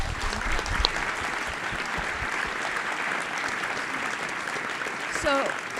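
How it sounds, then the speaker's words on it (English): An alumni association audience at an annual meeting and award presentation applauds the recipients with broad, sustained clapping, a few brief voices and a whistle-like tone rising over it near the end. "one more round of applause for our illustrious recipients"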